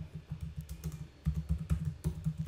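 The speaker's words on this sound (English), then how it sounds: "so here I'm typing it as" Someone types on a computer keyboard, entering an email subject line: a quiet, steady run of rapid keystrokes with brief pauses, close by and with no talking.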